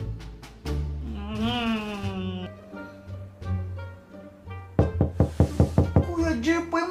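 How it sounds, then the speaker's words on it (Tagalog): Knocking on a door inside a Roblox game, a quick series of about seven sharp, loud raps in fast rhythm, coming after a stretch of music and voice-like sound. "Kuya Jepoy, may kumakatok. Buksan mo."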